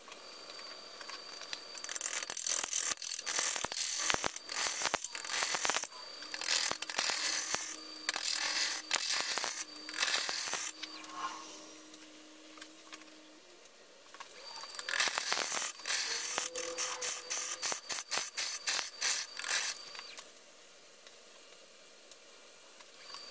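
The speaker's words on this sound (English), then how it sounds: "It's the bigger one I turn yet on my lathe. 18 inches. So let's try to rough this out." A large 18-inch block of spalted wood for a lamp shade is roughed out on a wood lathe turning at 250 RPM. The gouge hits in rapid, rhythmic knocks and rough scraping bursts, close and steady, with brief pauses.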